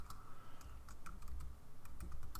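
Rapid typing on a computer keyboard, with a quick, uneven string of close key clicks and no talking.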